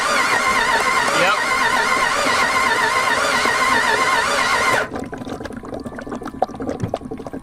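Loud, steady rushing hiss of escaping compression bubbling through the cooling system of a $740 auction-bought Jeep 4x4, running close for nearly five seconds before cutting to quieter clicks and faint rustling.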